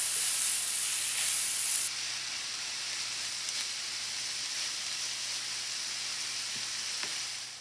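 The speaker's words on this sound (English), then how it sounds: "Bacon's really starting to fry up nice." Bacon fries in a pan with a steady, close sizzle and hiss that runs throughout, a bright high tone fading early, and a few faint pops near the end; nobody speaks.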